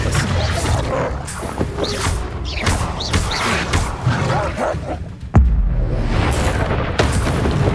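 Disarming spell in Hogwarts Legacy amid busy combat, with repeated booms and thuds, a sharp loud impact near the end, and brief yelping creature sounds in a steady, dense mix.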